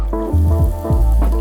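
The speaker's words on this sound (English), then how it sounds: "That's the sizzle you want in the pan." Fresh Mediterranean vegetables and garlic for shakshuka sizzle in a hot frying pan, a steady close crackle with a low rumble running throughout and no talk.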